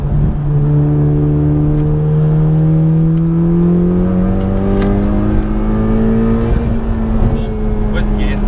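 Honda Civic Type R with VTEC, its engine revving hard: a loud, close, continuous whine that climbs steadily in pitch across the run.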